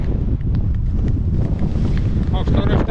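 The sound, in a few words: strong wind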